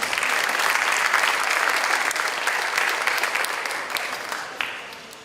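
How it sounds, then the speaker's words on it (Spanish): An audience at a commemoration of José María Arguedas's birth gives strong applause for a folklore master, dense clapping that swells early, then gradually tapers off. "Fuerte el aplauso para el maestro."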